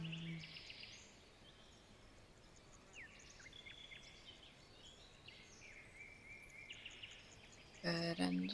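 Faint, scattered bird chirps and short calls drift over a quiet, steady forest ambience with a soft insect-like hiss, the sound growing briefly louder near the end.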